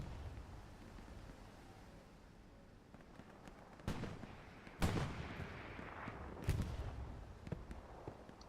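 Gunfire and tank shots in the World War II shooter Hell Let Loose, on the night map Kursk, with armor in the distance: three heavy booming blasts over a low rumbling battlefield, fairly distant and loud against the background.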